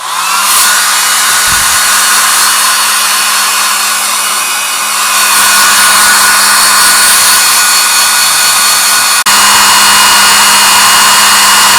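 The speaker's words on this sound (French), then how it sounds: "je vais venir sécher mon carénage avec le sèche-cheveux" A hair dryer blows steadily and loudly throughout, drying a motorcycle fairing, a constant whirring rush with a slight dip in pitch midway and a brief click near the end.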